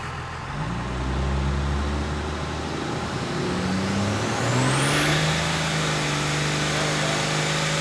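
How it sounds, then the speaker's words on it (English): The Roadkill ramp truck holds a tire burnout on its line lock, a loud sustained engine roar with rising revs and rough tire-spin noise, ending in a high whine that climbs and then holds. "Let's smoke some tires."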